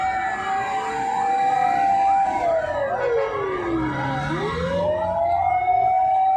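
Several fire truck sirens wail at once while responding to a fire on Jl. Karawisi, Makassar, their overlapping rising and falling tones sweeping loudly and continuously.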